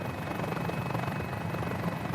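A Mini-500 helicopter in Microsoft Flight Simulator, engine and rotor droning steadily in a dense, even whir with a faint high whine on top, continuous for a couple of seconds and with no talking.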